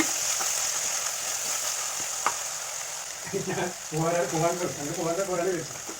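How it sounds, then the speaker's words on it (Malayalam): Crushed garlic and ginger sauté in hot oil for a sardine fish curry, a constant close sizzle with a few sharp pops, and a voice talks over it during the second half. "വെളുത്തുള്ളി ഇഞ്ചി ചതച്ചത് ഇട്ട് കൊടുക്കുക അത് അതിലിട്ടൊന്ന് വഴറ്റുക"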